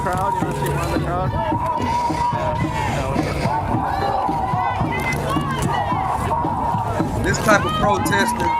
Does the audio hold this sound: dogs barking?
no